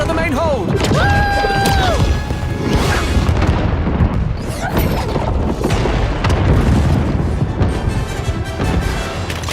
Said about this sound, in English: The control ship has been destroyed!